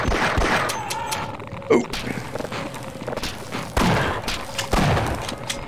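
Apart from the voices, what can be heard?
military gunfire in video game Half-Life VR mod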